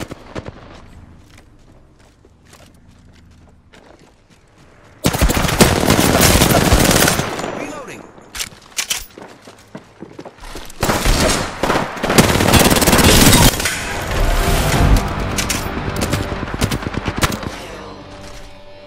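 Apex Legends gunfire: after a quiet stretch, sustained loud automatic bursts erupt close by, pause briefly, then resume as heavy rapid fire with overlapping shots.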